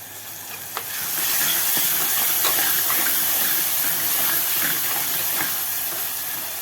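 Tomatoes sautéing in a hot pan for prawn curry, a constant hissing sizzle that rises after a brief quiet start, with faint intermittent scrapes of stirring, close and without speech.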